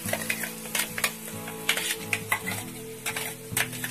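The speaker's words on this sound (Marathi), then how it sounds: "तर मिरची थोडा वेळ परतून घेऊ" Green chillies with curry leaves sautéed in a pan for vada pav, giving a steady close sizzle broken by the repeated scrape and clink of a stirring spoon against the pan, with no voices.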